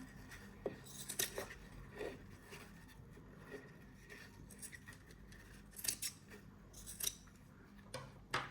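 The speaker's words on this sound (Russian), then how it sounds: "И сейчас под самый минимум все подрежу. Сначала обрезаю самое крупное." Quiet, close snips of scissors trimming craft material for a handmade Christmas ornament lantern, a handful of crisp irregular cuts with soft rustling between them.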